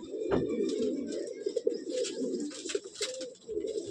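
A pigeon from a breeding pair of Madrasi pigeons in a loft gives a low, continuous coo, near and fairly soft, with a few faint chirps mixed in.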